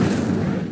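A short, dense whoosh-burst of a fire spell being cast in Hogwarts Legacy, loud and roaring for under a second, with no voice over it.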